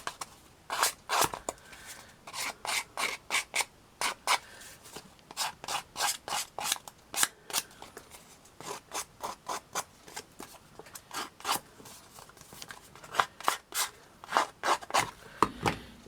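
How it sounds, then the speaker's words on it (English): Scissors snip through paper for a scrapbook journal in quick, close, crisp cuts, arriving in irregular bursts of several strokes with short pauses between. "Scissors to the rescue."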